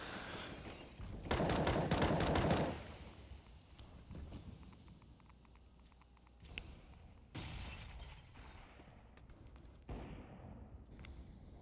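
Counter-Strike match gunfire, with AK-47 rifles and an AWP firing: a dense rapid burst up front, then scattered shots and a few more short volleys, fairly faint overall.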